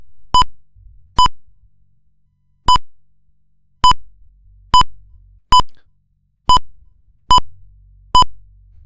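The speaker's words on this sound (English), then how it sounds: "The beeps, though." Sharp electronic beeps from the MS-DOS game Sea Rogue, nine identical short tones sounding alone at loosely spaced intervals, loud and clean against near silence.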